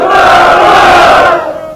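Crowd at a Punjab political rally roars and shouts in a loud, sustained burst, with cheering that tails off near the end.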